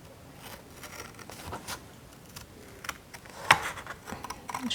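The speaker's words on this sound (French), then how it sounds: "vous lâchez vos ciseaux et vous coupez dans le trou" Scissors snip through paper in a series of short, uneven cuts and rustles, with one sharper crisp snip near the end; close and fairly quiet.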